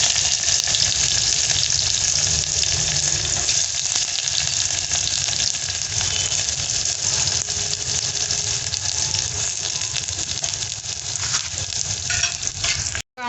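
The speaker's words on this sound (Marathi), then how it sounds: "कांदा छान असा परतला ना" Onion frying loudly in hot oil with garlic, cumin and mustard seeds as the tempering for masoor dal, a dense, close, continuous sizzle lasting throughout with no talk.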